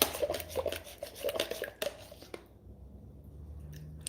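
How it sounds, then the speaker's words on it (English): A soap-making mixture of turmeric, honey and goat milk is stirred by hand, giving soft clinks and wet squishing strokes for a couple of seconds before the sound fades almost to silence. "So now I'm just stirring. It's taking some time to dissolve."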